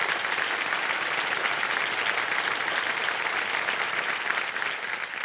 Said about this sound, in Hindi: जोरदार तालियां बज जाए जावेद साहब